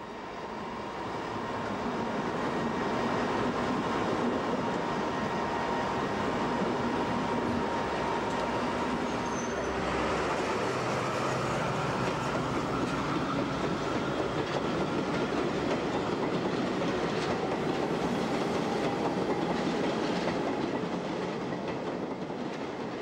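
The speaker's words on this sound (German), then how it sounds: "Einfahrt in den Bahnhof Charlottenburg." A VT 08.5 diesel railcar pulls into Charlottenburg station in Berlin with an interzonal train waiting alongside. A loud, continuous rolling rumble mixes with wheel clatter and a brief squeal, close by, with no voices.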